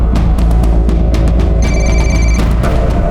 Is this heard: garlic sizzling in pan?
no